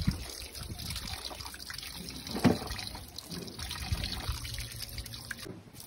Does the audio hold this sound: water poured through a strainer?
yes